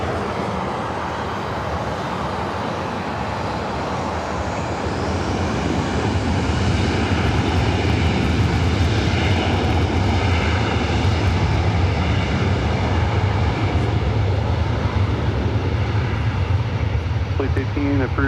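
A Southwest airliner takes off from runway 24 right at LAX, a loud, continuous jet engine roar that builds and holds steady, broad and rumbling, with faint radio voices underneath.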